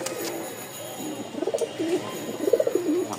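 A male pigeon gives two short, close bursts of throaty, rolling cooing over quiet background noise.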